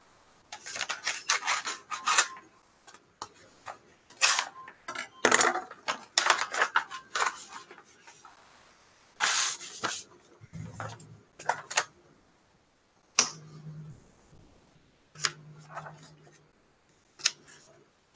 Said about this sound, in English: And I will now open their envelope.